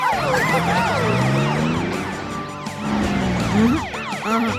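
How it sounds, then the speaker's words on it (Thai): Police car sirens wail loudly and nearby, several rising and falling tones overlapping in a busy, continuous chorus with no speech. "ใช้ไซเรนเลย เด็กจะได้ยินเสียง"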